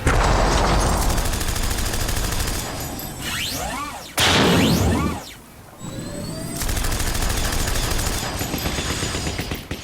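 Rapid gunfire and explosive booms from the strategy video game Battle Worlds: Kronos, with bursts of automatic fire, whooshing projectiles and heavy impacts that fill the scene loudly, briefly dropping away before firing resumes.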